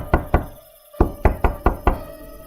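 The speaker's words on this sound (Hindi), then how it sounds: "दस्तक अब और जोरदार हो गई।" Loud knocking on a wooden door: a rhythmic series of heavy thuds, two blows, a short pause, then five more in quick succession, close and forceful in a quiet room.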